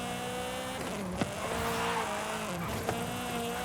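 A car in Forza Horizon drifts with a steady engine drone and a sustained tire squeal, with a couple of brief sharp bumps along the way.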